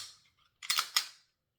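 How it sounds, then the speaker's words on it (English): Glock 19 Gen 5 pistol being cleared: two sharp metallic clacks of the slide racking back and snapping forward in quick succession, close and crisp, preceded by faint handling noise. "That is my Glock 19 Gen 5. I'm going to clear her really quick."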